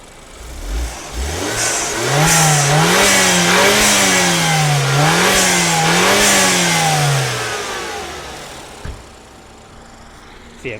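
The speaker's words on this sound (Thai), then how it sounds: "เร่งเครื่องให้ฟังเสียงเครื่องนิดนึงนะครับ" Close-up BMW F30 320i turbo petrol engine revved repeatedly, pitch climbing and falling in several smooth waves before settling back to a quiet idle.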